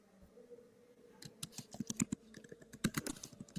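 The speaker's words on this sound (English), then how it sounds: "Oh, I can hear her typing now." Rapid clicks of typing on a computer keyboard come in quick uneven bursts, fairly faint as if heard over a remote connection, with no speech over them.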